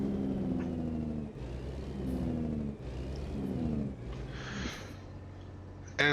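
Truck engine in American Truck Simulator, a steady low drone that rises and falls in repeated revving swells as gears shift, ending with a short sharp burst.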